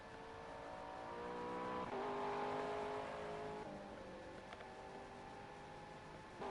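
GT3 race car engines in Project CARS, a steady multi-car drone whose pitch rises and falls with gear changes, moderately loud and continuous without talk.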